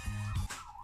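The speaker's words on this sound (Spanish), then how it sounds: "ahora la puta ambulancia de mierda" Ambulance siren wailing outside, its tone sweeping audibly in a short, fairly loud burst that passes by and fades, with no talk over it.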